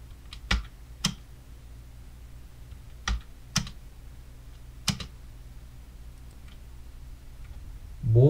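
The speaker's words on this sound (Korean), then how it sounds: "홈키 누르고 스페이스바." Home key and spacebar pressed on a computer keyboard, heard as a handful of sharp, quiet clicks spread over several seconds against a faint background hum, with a louder thump right at the end.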